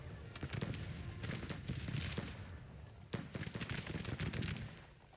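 Musket volleys in the Civil War strategy game Grand Tactician, a rapid ragged series of sharp gunshot cracks and dull booms rolling over several seconds, moderately loud with no talk.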